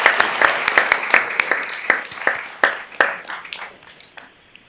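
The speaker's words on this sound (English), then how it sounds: "One more round of applause." Applause from an audience at a meeting, with scattered individual claps that ring out distinctly, clear and close, then thin out and fade away toward the end.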